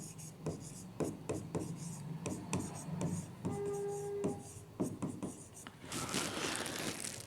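A pen writes on a paper application form, close up, in a series of short scratching strokes and taps with brief pauses, followed by a rustle of paper near the end.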